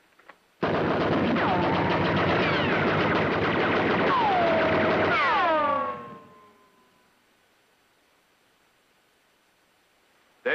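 Rapid gunfire rattles in a TV western battle scene, a dense, loud stretch of shots for about five seconds with whistling, falling tones, then cutting off into near silence.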